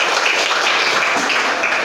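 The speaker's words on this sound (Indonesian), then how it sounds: "Oke, tepuk tangan." Classroom group of students clap together on a teacher's cue, a steady, even patter of hands lasting about two seconds.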